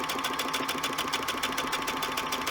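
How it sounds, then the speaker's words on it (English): A sewing machine runs a one-step automatic buttonhole, zigzag-stitching around the keyhole end with a fast, steady, even whir and needle patter, close and continuous with no talk. "And it's going around the keyhole bit with a zigzag."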